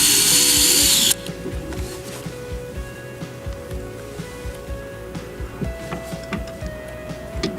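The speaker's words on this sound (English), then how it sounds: "I'm going to just pre-drill a little bit to get it started." Power drill pre-drilling a hole for a 1.5-inch screw while installing an aluminum railing foot block: a loud whine cuts off abruptly, then a lower steady motor drone with rising pitch continues alone.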